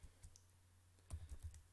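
Several scattered keystrokes on a computer keyboard while text is entered into a PowerPoint slide: a few isolated taps, then a quick cluster of clicks near the end, close and fairly quiet, with no talking.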